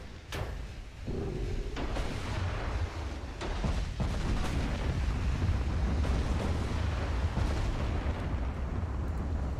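In Ultimate Admiral: Dreadnoughts, naval guns fire at destroyers, with several sharp cannon blasts spaced over a loud, rumbling backdrop of continuous battle noise.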